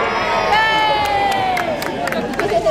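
Crowd cheering a police dog that catches a fleeing suspect at a Kent Police open day demonstration, loud sustained shouting with a raised voice standing out and scattered sharp claps.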